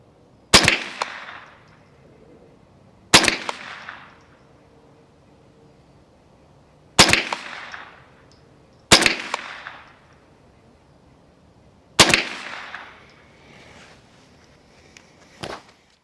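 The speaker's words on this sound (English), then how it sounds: "tried 5 shots to the head of the target from 50 yards, and here's how they went" Five sharp gunshots, fired one at a time at a target 50 yards away, crack loudly at irregular intervals with short decaying echoes and quiet pauses between them.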